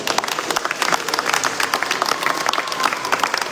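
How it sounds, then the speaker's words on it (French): Crowd applause at a junior cycling tour awards ceremony in Martinique, steady moderate clapping from many hands continuing for a few seconds without speech. "et pour ça, des applaudissements"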